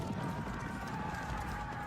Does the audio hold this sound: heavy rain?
no